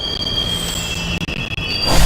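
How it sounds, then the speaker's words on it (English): A train in the game Persona 3 Portable gives a loud, sustained high-pitched wheel squeal over a rumbling rail roll. Brief clacks break in partway through, and the rumble swells at the end. "This is the final train bound for Tatsumi Port Island."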